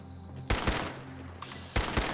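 An NPC firing in Fallout 76: two close, loud bursts of rapid gunshots, each lasting under a second, separated by a quieter stretch of game ambience.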